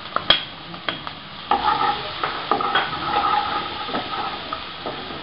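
Onions sizzle in a hot pan while a utensil stirs them, with a steady frying hiss broken by repeated scraping strokes and clicks against the pan, close up and fairly quiet, with no talk.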